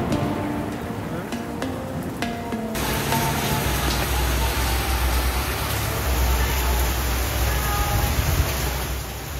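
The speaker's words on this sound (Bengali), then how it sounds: "রুমে ফেরার পরেও থামতেই চাইল না বৃষ্টি।" Steady heavy rain falling outside a riverside resort room at Diamond Harbour, a continuous broadband wash with some clicking knocks in the first seconds, then an even, unbroken downpour.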